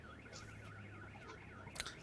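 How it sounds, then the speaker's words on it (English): A warbling electronic car alarm wails faintly in a rapid up-and-down pattern, heard at a distance over low background hum. "whose car alarm is going off?"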